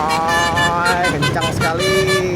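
A Basuri telolet musical horn on a Palala bus plays loud, close, shifting melodic tones over the roar of passing traffic on Jalan Soekarno Hatta in Palembang.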